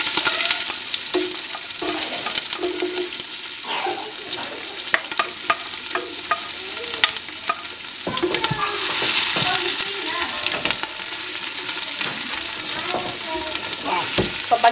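Onions sautéing in a pan for beef caldereta, a steady close sizzle and fry with repeated scrapes and clacks of a spatula stirring throughout, no talk.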